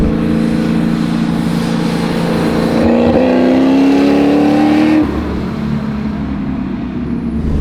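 Supercharged Ford Boss 302 Mustang custom accelerating hard, loud close engine note climbing steadily in pitch with supercharger whine, then dropping off as the throttle lifts around five seconds, leaving a lower steady drone.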